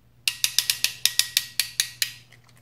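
A PEX clamp tool squeezes a clamp ring onto a fitting on tubing for a shop air line, giving about a dozen sharp, close ratcheting clicks in a steady, slightly uneven rhythm, each with a quick metallic decay.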